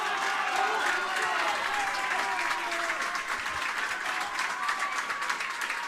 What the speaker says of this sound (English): And as you hear, the home crowd approve.